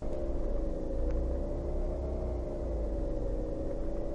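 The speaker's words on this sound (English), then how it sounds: "There's machine broken." A continuous low machine rumble with a faint oscillating hum and occasional clicks, sounding like a broken, struggling motor, a game sound effect from Unreal Development Kit.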